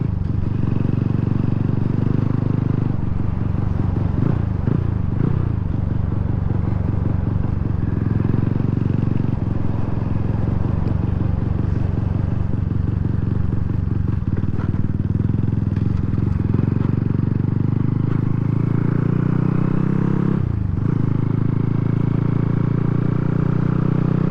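A motorcycle at full throttle shifts from third into fourth gear, its engine roaring continuously and close by with rising revs, brief dips at each shift, and a steady wind-blown drone throughout.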